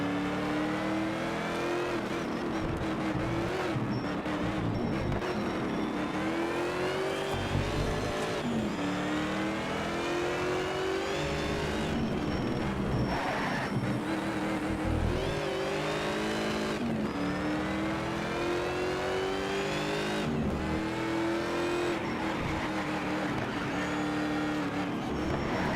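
A race car in Need for Speed Shift 2 drives a track, its engine revving and climbing through gears in repeated rising sweeps, loud and continuous with occasional tire squeal and no talk.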